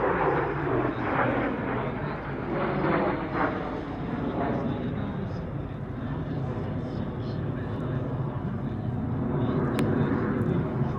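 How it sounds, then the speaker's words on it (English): Three L-39 jets of an aerobatic team flying at the Meaux airshow: a steady broad jet roar that rises and falls slightly across the whole stretch, with a voice talking over it. "that is exactly what happened with this trio of L-39s from Fly and Fun"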